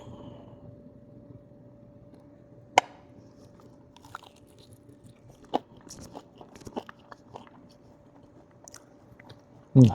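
Someone takes a bite of beef biryani dipped in consomme, with a few sharp, close bites and soft chewing sounds scattered over a quiet room hum, ending in a louder crunchy burst.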